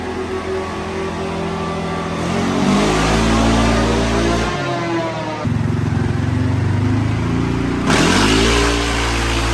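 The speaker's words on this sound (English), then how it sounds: "we gotta get some heat in the engine, and then we'll do some dyno pulls" A CFMOTO CFORCE 600 ATV engine revs hard while strapped to a dyno, loud repeated throttle pulls rising and dropping, each burst climbing in pitch before falling back, with no talking.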